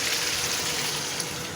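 Water pours steadily into a cooking pot, a broad continuous rush that fills the whole short moment with no talk over it.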